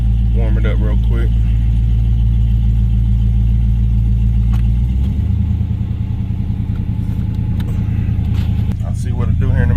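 A Box Chevy's engine idles steadily up close, a low, even rumble with a shift in tone about halfway through as it keeps warming up.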